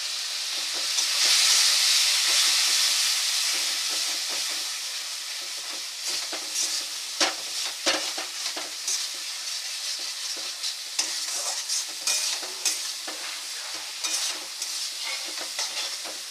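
Moong dal with chicken sizzles loudly in a pan as water goes in, a hissing burst of steam followed by repeated scraping stirs and clinks of the spatula, with no talking.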